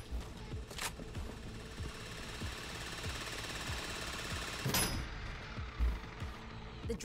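Steady mechanical grinding of a drill working through a vault in the Payday 3 co-op heist game, a constant rattling drone running throughout with a brief louder burst near the end and faint voices in the background.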